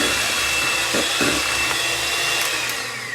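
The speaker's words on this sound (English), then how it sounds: "So now we're gonna do our meringue. This is our 6 egg white. So let's just beat this thing all up." An electric mixer whipping six egg whites for meringue, a loud, continuous close-up whir that holds steady with slight dips in pitch as the beaters work through the bowl.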